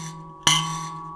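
A loose mbira key is plucked once with a sharp attack, ringing with a buzzy, rattling tone that decays over about half a second after a fainter earlier note.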